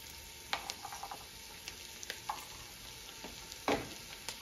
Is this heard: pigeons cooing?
no